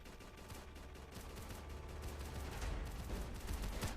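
Rapid video game gunfire from soldiers in a wave-based battle, a dense continuous rattle of shots that grows louder over the final seconds.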